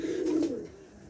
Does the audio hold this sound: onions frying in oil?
no